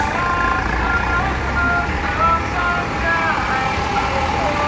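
A bus telolet horn plays a series of musical tones at the Lebak Bulus terminal. The tones rise over a loud, steady rumble of idling bus engines.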